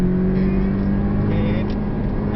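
Porsche 718 Cayman S engine held at steady high revs under full acceleration on the Portimão race circuit, a loud continuous drone with strong low harmonics and road roar throughout.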